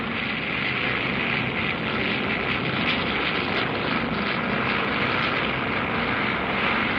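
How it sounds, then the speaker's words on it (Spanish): Propeller aircraft engines run at full power for a takeoff, making a dense, steady, loud roar with a broad, rough texture that holds without a break. "Uno a uno, los motores se forzaban al máximo."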